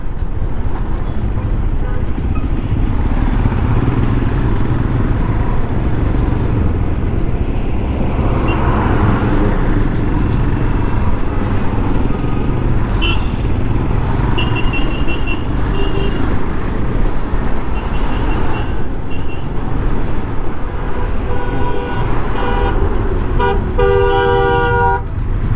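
Heavy, congested road traffic around a motorcycle on a ride from Malvan to Mumbai in the Konkan region, with a steady loud rumble of engines and repeated car and bus horn toots throughout, nearby and continuous.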